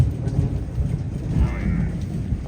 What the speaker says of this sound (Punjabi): ਬਾਰਿਸ਼ ਵੀ ਸੱਜਣਾ ਪੂਰੀ ਚਾਲੂ ਹੋ ਗਈ ਆ